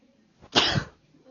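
A single sharp sneeze bursts out once, close and loud, after a short intake of breath, then quiet.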